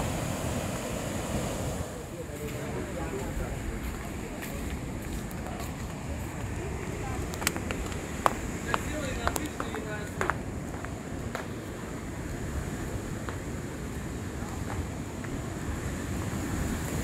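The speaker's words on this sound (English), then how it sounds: "Look at these waves." Ocean waves at Tanah Lot in Bali rumble and wash continuously against the shore, a steady roar mixed with gusts of wind buffeting the microphone, with a few light clicks and faint voices in the background.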